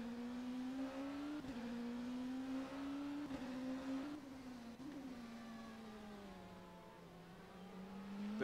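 Race car engine from a Hansa Racing car in the racing game rFactor 2 at Interlagos, a steady onboard drone that rises and falls with throttle through the mid-sector, heard alone with a few gear-shift dips.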